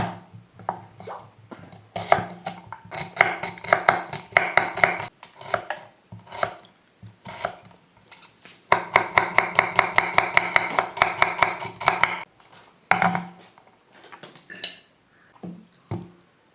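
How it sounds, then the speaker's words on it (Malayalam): A knife chops a small onion on a board for a banana pizza: quick, crisp rhythmic taps in fast bursts with brief pauses, close and clear, with no talk. "ഒരു ചെറിയ സവാള എടുത്തിട്ടുണ്ട് അത് നൈസായിട്ട് കട്ട് ചെയ്യാം"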